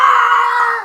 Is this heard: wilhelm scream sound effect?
yes